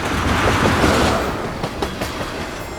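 A train rolls past close by, a broad rumbling roar with rhythmic clickety-clack of wheels over rail joints that fades slightly toward the end, with no talking.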